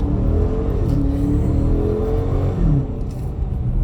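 A 2016 Dodge Challenger R/T with the Hemi engine accelerates hard in sports mode, a loud, steady deep engine roar climbing in pitch with a brief gear shift partway through.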